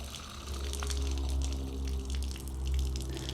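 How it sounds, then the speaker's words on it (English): Water runs in a steady flow through a pressure washer, a continuous hiss with a low mechanical hum underneath, moderately loud and with no talking. "Now it's a pretty nice steady flow of water at this point."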